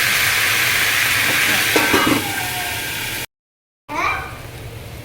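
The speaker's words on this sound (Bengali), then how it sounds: "আলুগুলো আমি গ্যাসটা কমিয়ে ঢাকা দিয়ে ভালো করে ভেজে নিই।" Potatoes for a potato, soya chunk and paneer biryani fry in oil in a covered pan over lowered gas, a steady broadband sizzle with a few stirring scrapes, briefly cut off, then resuming with a brighter hiss.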